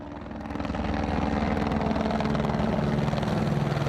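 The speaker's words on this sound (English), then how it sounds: "That's Border Patrol. That is one of their helicopters." Border Patrol helicopter flying overhead near the Mexican border at El Paso, a steady loud rotor drone with rhythmic chopping that swells in over the first second and holds, no voices.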